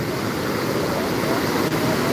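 Tapi river water rushing over a flooded causeway, roughly two feet deep, in Surat: a steady, loud broadband roar of flowing water that stays constant throughout.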